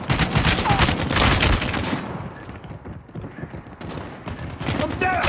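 Call of Duty gunfire, a loud dense volley of rapid shots for the first two seconds, then scattered shots and game beeps, with a voice speaking.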